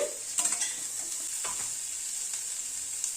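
Cauliflower and potato pieces fry in a pan under a steady, bright sizzle. A few quick stirring scrapes and clinks come early, and the sound stays close and continuous with no talk.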